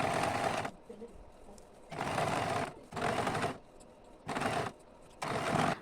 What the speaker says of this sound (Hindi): अब एक एक करके मैं पिन निकालते जाऊंगी और थोड़ा थोड़ा करके सिलते जाऊंगी